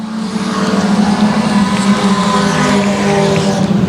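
A 4-cylinder race car, Chris Collier's Ford number 14, roars down the back straightaway toward the checkered flag at Boothill Speedway, a loud, steady engine drone close by with no talk.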